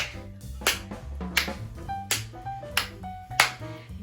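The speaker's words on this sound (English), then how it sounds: "Then we're going to clap." Hand claps in a dance routine, a run of sharp, close claps spaced about every half second over upbeat background music.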